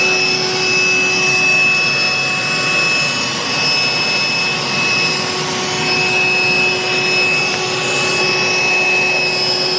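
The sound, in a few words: vacuum cleaner running in a caravan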